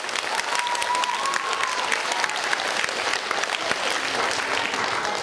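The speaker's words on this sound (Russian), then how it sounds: "Аплодисментами поблагодарим наших." Steady, dense applause from an audience at a children's beauty pageant, continuous and evenly loud throughout, with a faint tonal whistle or feedback line drifting briefly through it.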